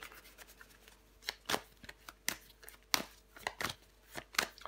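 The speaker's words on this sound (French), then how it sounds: "Je vais recouvrir des cartes." Tarot cards being shuffled and laid out on a table, a series of crisp slaps and flicks in irregular bursts, close and quiet with no talk over them.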